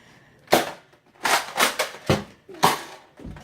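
A Nerf Mega Magnus blaster fired nearby, a series of sharp, loud pops and clacks spaced unevenly, alone with no talking.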